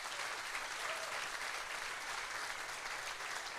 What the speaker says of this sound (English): A little round of applause for the staff.